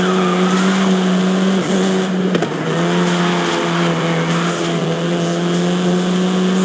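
A Volkswagen Golf R racing in Forza Horizon 5, its engine holding a loud, steady high drone throughout, with a brief tire squeal or skid partway through.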